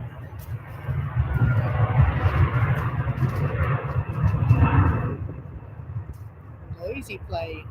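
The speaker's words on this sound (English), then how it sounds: "Noisy plane." A noisy airplane at Manchester Airport roars past as a broad, swelling rumble that peaks and fades over several seconds, heard from outdoors with a voice speaking near the end.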